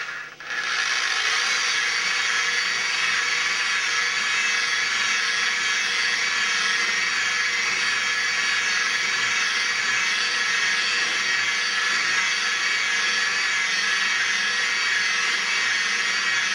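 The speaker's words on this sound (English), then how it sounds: "Spread it around with the buffer so that you don't fling it." A polishing buffer on its lowest setting whirs steadily on car clearcoat of a BMW 2002, a constant high-pitched rubbing drone, starting abruptly and running close and loud without pause.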